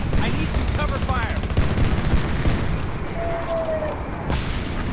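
Sustained automatic gunfire in the multiplayer shooter Homefront, a dense, continuous rattle of shots with distant booms mixed in, loud and steady throughout.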